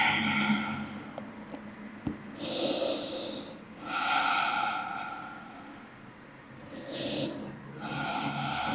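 Deep, slow breaths during a hip and inner-thigh yoga stretch: several long, airy inhales and exhales, close and fairly soft, spaced a second or two apart with quiet pauses between them.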